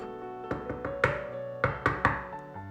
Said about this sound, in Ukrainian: одного вечора в його двері хтось постукав